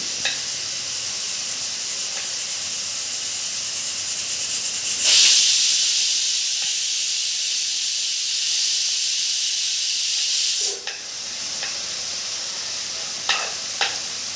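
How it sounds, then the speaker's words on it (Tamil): Chopped onions and tomatoes sauté in a hot pan for a butter chicken base, giving a steady loud sizzle and hiss throughout, with a brief surge and a few clinks of stirring near the end. "அடுத்து தக்காளியும் வதக்கிடலாங்க"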